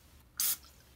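A single short spritz of olive oil spray onto banana pieces headed for the air fryer, a sharp close hiss lasting a fraction of a second in otherwise quiet surroundings.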